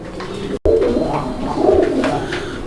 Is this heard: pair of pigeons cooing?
yes